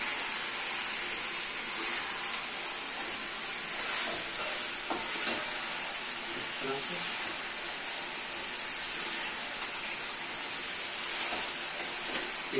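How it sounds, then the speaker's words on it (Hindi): Chicken keema frying in ghee in a pan gives a steady, soft sizzle and hiss, with occasional scraping from stirring throughout. "अच्छे से चिकन के कीमे को भून लेंगे"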